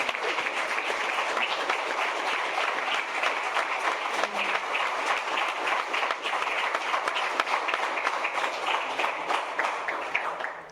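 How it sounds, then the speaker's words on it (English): Audience at an affordable-housing panel event giving panelists a sustained round of applause, dense even clapping from many people held steady for several seconds, moderately near with no talking. "If we can give our panelists one more round of applause."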